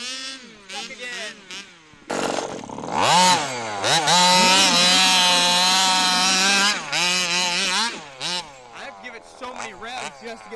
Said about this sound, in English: So many revs just to get through this snow.